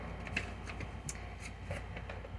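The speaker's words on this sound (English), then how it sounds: "we're gonna do a pre-shuffle just to see what comes out" Soft papery riffles and taps of a tarot deck being shuffled, several quick bursts, close and quiet.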